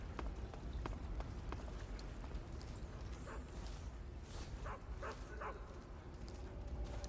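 Guard dogs in the video game Metal Gear Solid 3: Snake Eater bark in a series of short, sharp yaps that grow more frequent midway, fairly faint against a rustling jungle background.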